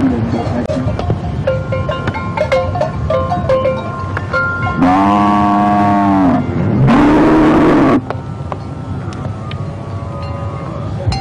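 A Maasai cattle herd makes its slow descent from a steep climb, with loud, close drawn-out lowing moos rising over a busy outdoor background of whistles and murmur.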